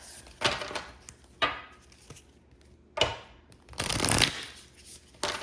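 Inner Child Oracle cards shuffled by hand in a few separate bursts of close riffling and sliding, with short quiet gaps between them and a longer, louder shuffle near the end.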